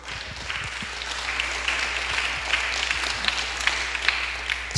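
A church congregation at a midweek service claps in soft, scattered applause, fairly distant and low in level, lasting a few seconds with no talk over it.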